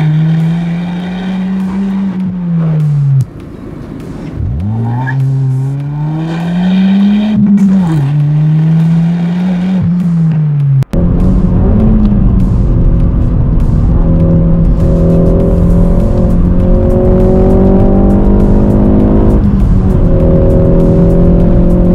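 A Ford Focus mk4 with the 2.3 EcoBoost engine and 280 hp accelerating hard on the road, its loud engine rising in pitch through several gear changes, then holding a strong, steady roar, with no talk.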